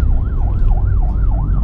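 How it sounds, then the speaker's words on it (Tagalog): An ambulance siren wails loud and close in a fast, regular up-and-down sweep, several cycles running continuously over road rumble. "ambulansya."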